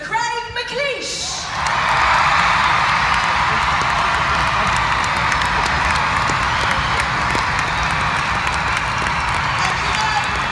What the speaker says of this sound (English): Please give an appreciative round of applause for Mr. Craig McLeish.